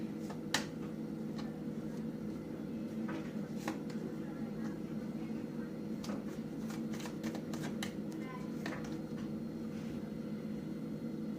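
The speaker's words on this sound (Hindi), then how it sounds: "अब मैं आपके बैड कर्मास के लिए कार्ड निकालने वाली हूँ।" Tarot cards shuffled and drawn, quiet papery flicks and snaps scattered over a steady low hum, close but faint.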